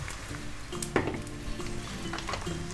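Onions fry in a good quantity of butter in a pan, a soft continuous sizzle with occasional stirring clatter and a brief utensil knock, fairly quiet and without speech.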